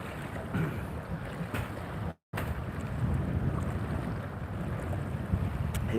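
Strong blustery wind buffets the microphone outdoors, a constant rough roar with gusty swells and one brief dropout.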